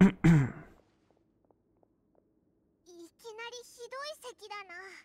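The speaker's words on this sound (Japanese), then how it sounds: "いきなりひどい咳だな。" A Genshin Impact character gives a sudden harsh cough at the start, loud and close. A near-silent pause with faint ticks follows, and then a character begins speaking.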